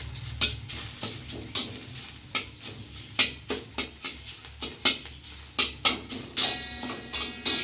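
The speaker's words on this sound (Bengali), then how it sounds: "মধ্যে এই মূলোটা দিয়ে দেবো। দিয়ে সুন্দর করে একটু ভেজে নেবো বন্ধুরা।" Radish pieces frying in a pan as a spoon stirs them, repeated scraping strokes in a steady rhythm over a soft, continuous sizzle, close and clear.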